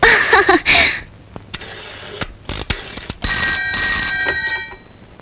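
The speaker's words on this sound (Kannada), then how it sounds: "ಅಣ್ಣ, ನಿನಗ್ ಫೋನು." A telephone rings indoors in a Kannada film scene. A few sharp clicks and knocks come first, then a sustained, bright, close ring tone holds steadily until the end.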